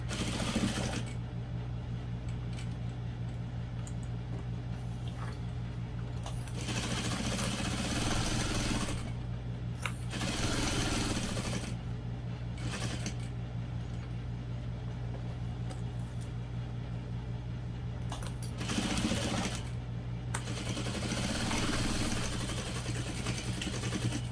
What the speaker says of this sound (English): I'm just going to sew all the way around the pocket.